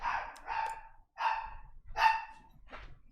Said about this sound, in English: The dog is barking so loud.